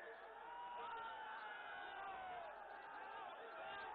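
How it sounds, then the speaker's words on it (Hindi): A dense crowd packed into a political rally hall in Bengal, with people standing on the roof too, roars and cheers steadily for the whole stretch. The sound is a thick, continuous wall of many voices at a loud, even level. "यहां पर्दे भी खोल देने पड़े वहां तक भीड़ है"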